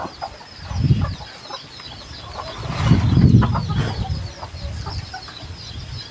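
Small decoy rooster, a young six-khit fighting-type bird kept for training, clucks and crows in two louder bursts with quieter calling between, close by.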